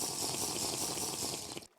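Water pours or runs steadily from a water bottle, a continuous close, loud liquid rush that cuts off abruptly at the end.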